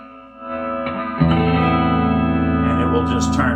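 McFarland Les Douze 12-string guitar rings out with a bright, shimmering tone through effects and reverb, sustained strummed chords swelling louder after a moment and holding steady.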